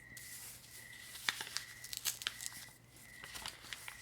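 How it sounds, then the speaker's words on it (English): A mailed package is peeled open by hand, giving a few faint tearing and crinkling sounds with small crackles, close by in a quiet room and with no speech. "this one I might need to peel it open"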